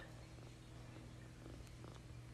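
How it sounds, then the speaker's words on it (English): Soft, low, continuous purring close up, a quiet rhythmic rumble with faint rustling. "Are you purring?"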